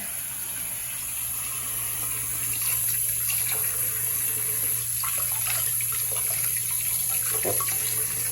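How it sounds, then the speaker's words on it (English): Water runs steadily from a newly installed Pfister bathroom faucet into the sink, a continuous, even hiss and splash heard up close with no voices. "like the water's coming out just fine."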